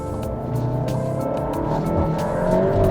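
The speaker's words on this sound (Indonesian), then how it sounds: "Turbonya pokoknya begitu masuk kayak bukan nendang lagi sih, ini ketapel gitu" A modified VW Golf GTI Mk7 turbo hatchback pulls hard under acceleration, its engine note loud and steady close to the microphone for the whole stretch, with no voices over it.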